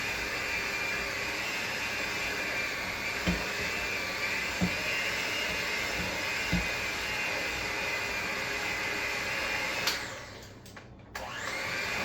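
An electric mixer beats salted caramel cookie dough with a steady, loud whirring drone and a few faint knocks against the bowl, cutting out briefly near the end, with no talking.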